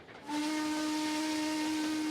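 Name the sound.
steam locomotive passing in Trainz Simulator video game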